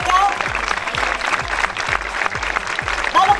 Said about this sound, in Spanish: Fuerte el aplauso para Florencia.